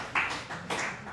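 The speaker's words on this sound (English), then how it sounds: "I always have to speak after someone claps." One person claps twice in a quiet room, two short dry slaps about half a second apart.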